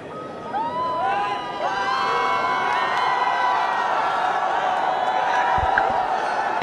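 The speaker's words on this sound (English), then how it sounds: "Plenty of vocal support here in Dhaka." A home cricket crowd in Dhaka roars steadily, a dense wash of shouting, whistling and high-pitched cheering that swells early and then holds loud throughout.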